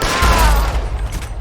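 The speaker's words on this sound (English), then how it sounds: "I accidentally shot that guy in the face" A single gunshot in L.A. Noire hits loud and close at the start, its echo fading out over about a second.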